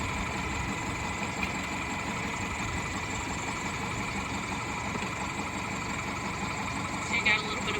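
A 1999 Subaru Impreza Outback Sport engine idles hot and steady close by, a constant low mechanical hum with no voices over it.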